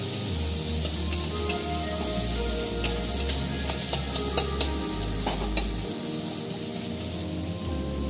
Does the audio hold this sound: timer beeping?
no